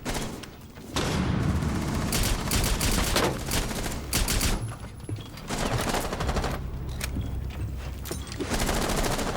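Rapid video game gunfire with a shotgun in play crackles in dense bursts separated by short lulls, loud and close throughout, with no voices.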